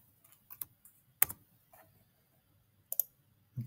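Light keystrokes on a computer keyboard while entering a sum formula into a spreadsheet: a handful of soft, scattered taps and clicks with quiet pauses between them and no talking.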